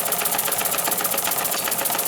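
A small homemade model engine built without machine tools runs on about 15 psi with a fast, steady, even chuffing rhythm and a bright mechanical clatter, close and continuous.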